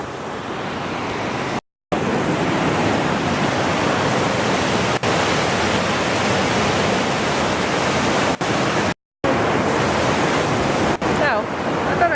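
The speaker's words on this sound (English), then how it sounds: "I don't know if you can hear me because the water's really loud" A loud Lake District waterfall roars in a dense, unbroken rush of falling water close by, with a few brief dropouts in the sound.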